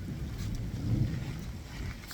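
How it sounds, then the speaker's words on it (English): Heavy rain with deep rumbling thunder during a storm in Lesotho, a continuous dense wash of noise swelling briefly in the middle, with no voices. "Rain, thunder, lightning,"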